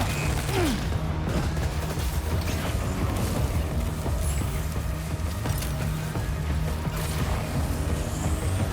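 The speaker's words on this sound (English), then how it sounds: "Where's the gunfire?" Gunfire and combat effects in the Death Stranding 2: On the Beach video game, a steady dense mechanical clatter with booming low rumble running throughout over a game soundtrack, with no talk.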